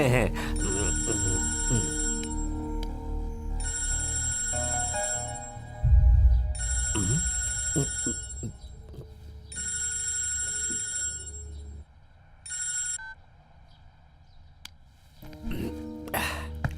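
A phone's electronic ringtone repeats in regular bursts, fairly loud and close, while people talk beneath it and a thump sounds midway.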